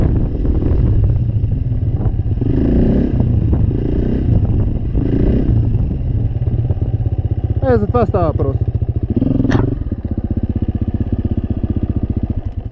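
A motorcycle engine idles and revs close by during a wheelie riding demonstration, with someone talking over the steady engine drone and a couple of sharp rev rises near the end.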